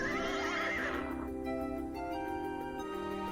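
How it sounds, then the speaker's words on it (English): A winged horse whinnies in the King's Quest 2 video game, a loud, bright neigh that trails off over game music, with no talking. "Before you now stands a magnificent winged horse."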